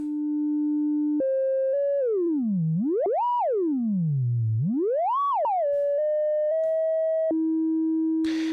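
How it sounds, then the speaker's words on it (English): A steady synthesized sine tone that holds, then sweeps smoothly up and down in pitch several times before settling, loud and electronic with no other sounds. "We will obtain a sine wave oscillator."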